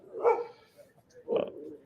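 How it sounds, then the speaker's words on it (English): Two separate dog barks from dogs in the room, each short and fairly loud, with a pause between them and no talk over them. "there are dogs in there"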